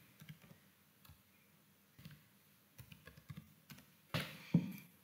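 Keys tap on a computer keyboard while a password is typed, sparse quiet clicks in small bursts, ending with a couple of louder, sharper keystrokes.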